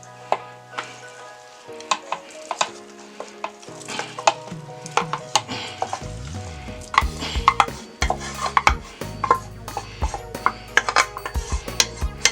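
A spoon stirs wild rice into a creamy chicken soup in a pot, sending uneven clinks and scrapes against the metal over a thick, bubbling, wet churn, with soft music playing underneath and no voices.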